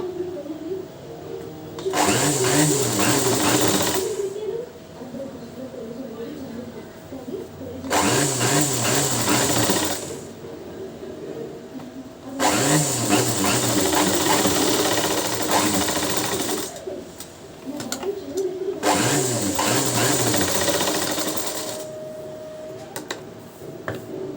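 A sewing machine stitching cloth while hemming a garment, whirring in several long bursts with short pauses between them, fairly close and steady, and a voice talks over parts of it.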